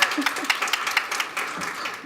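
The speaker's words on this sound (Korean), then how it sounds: "박수 주시면 감사하겠습니다." An audience at a records-management staff workshop gives a short, steady round of applause after a presenter's introduction, with a voice faintly under the clapping.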